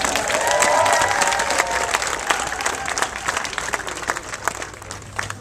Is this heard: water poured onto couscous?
no